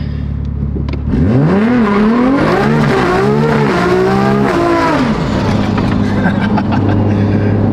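A 900 hp built-motor BMW M4 accelerates hard, its engine revving in rising, shifting sweeps before settling into a loud steady drone, heard close from inside the car.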